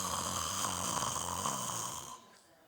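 A voice imitates heavy snoring, a loud rasping drone held for about two seconds before breaking off into quiet.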